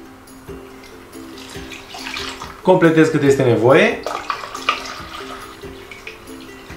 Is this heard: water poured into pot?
yes